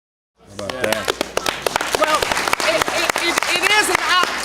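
Audience applause and cheering at a post-show cast discussion of the play 'The Whipping Man', loud and dense with sharp claps throughout, voices mixed into the crowd noise.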